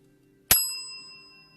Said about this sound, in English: When Jam appears, so shall the golden bell.